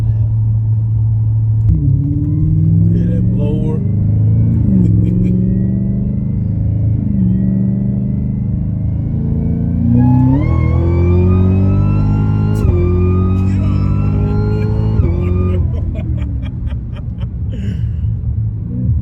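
A sleeper car's engine accelerating hard from inside, loud rising revs climbing through several gear changes over a deep rumble, with a voice heard briefly.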